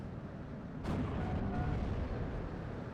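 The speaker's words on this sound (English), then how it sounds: "Sherman 3 is still firing away" A Sherman tank gun fires in the WWII strategy game Steel Division 44, one loud boom cutting through a continuous low rumble of battle noise.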